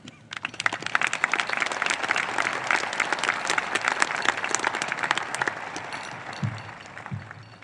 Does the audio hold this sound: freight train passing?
no